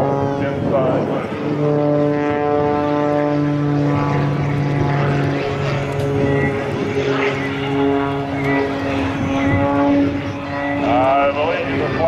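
Propeller-driven aerobatic aircraft flying at the Kaneohe Marine Corps Base Hawaii air show, its engine droning loudly with shifting pitch as it maneuvers, while an announcer talks over it throughout.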